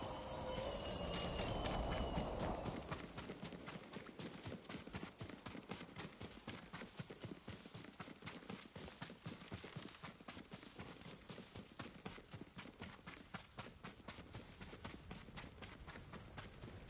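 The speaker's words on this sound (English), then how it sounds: "Yuriko's horse. She can't be far." Horse hooves clip-clop in rapid steady rhythm in the video game Ghost of Tsushima, a running horse heard close and continuous after a brief louder ambient opening.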